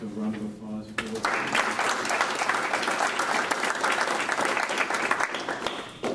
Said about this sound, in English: So round of applause for us.